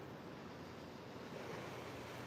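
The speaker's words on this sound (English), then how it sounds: "a bit like those waves behind me, rising and falling in their own rhythm" Ocean waves wash onto a Jamaican shore at dawn, a soft and steady surf hiss with some wind noise on the microphone and no voices.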